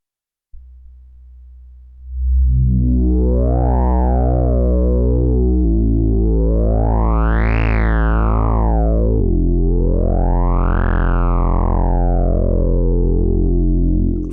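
Synth tone run through a Behringer BM-11M analog filter pedal, a steady buzzy note whose filter sweeps up and down in two slow, resonant rises and falls, loud and alone after a short quiet start.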